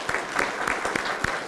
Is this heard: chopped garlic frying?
no